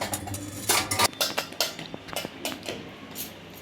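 Lentils are scooped into small plates with a few sharp clinks and scrapes of a utensil against dishes, close and fairly quiet.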